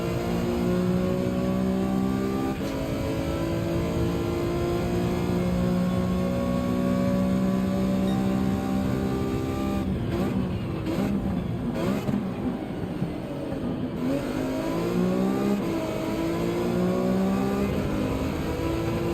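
Race car engine in Gran Turismo 7, a loud continuous high-revving drone that climbs and drops through gear changes while braking and accelerating through a chicane, with no talking.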